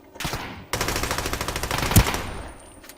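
Automatic gunfire from bots in the video game Ring of Elysium: a short lead-in, then a loud, rapid burst of shots for nearly two seconds before it trails off.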